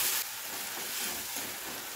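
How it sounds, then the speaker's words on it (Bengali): A paste of onion and ginger fries in a pan for a mustard, tomato and pomfret dish, a steady soft sizzle and hiss close by with no voices. "এবার এটিকে ভালোভাবে কষিয়ে নেব।"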